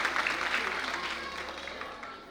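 Audience at a kalash yatra religious gathering in Bhopal applauds loudly in honour of a guest, a dense, continuous wash of many hands clapping that gradually tapers off, with no clear talking.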